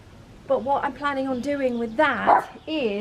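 A pet dog in an overgrown back garden yips and whimpers in short, high, pitch-bending bursts close by, overlapping someone talking.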